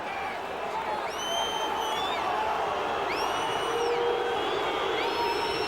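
A football crowd at a Manchester City match roars and whistles after a penalty is given, a loud sustained swell with shrill whistles rising above the noise.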